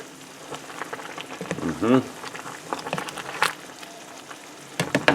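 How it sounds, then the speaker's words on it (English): Champignon mushrooms sizzle in a pan and are stirred, a soft continuous frying hiss broken by scraping spoon strokes and a few louder clatters near the end. "And one more time I stir this so it doesn't stick."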